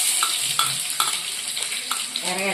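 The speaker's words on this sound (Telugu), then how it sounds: "ఇట్లా బాగా వేగాలి, ఎర్రగడ్డలు బాగా వేగాలి దోరలుగా" Onions fry in oil in a pan for a tamarind-prawn curry, a bright continuous sizzle with regular scraping stirs about every half second, close up, with a faint voice at the end.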